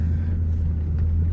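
A totaled, high-mileage Cadillac Escalade rolls along on very flat tires, giving a steady, loud low rumble of engine and road noise from inside the cabin, with no break.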